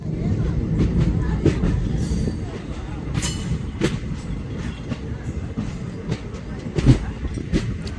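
The Lucknow Intercity SF Express runs along the tracks, heard from on board as a steady rumble with irregular wheel clicks and brief squeaks and knocks.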